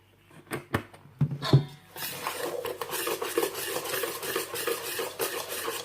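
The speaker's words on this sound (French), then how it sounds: "On y ajoute 2 cuillères à soupe d'huile pour sabler le mélange, pour bien imprégner la semoule d'huile" Hands working oil into dry semolina for harcha, a steady granular rasping and rubbing close up that settles into continuous scratchy friction after a few sharper knocks at the start.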